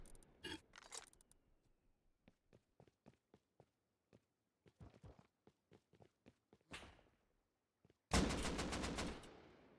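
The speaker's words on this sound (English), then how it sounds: "So many people fighting with guns here" Gunfire during a multi-player fight in the survival game Rust: sharp distant shots in irregular single and burst patterns, a rapid volley early on, a spaced string of cracks, then a loud close burst of sustained fire at the end.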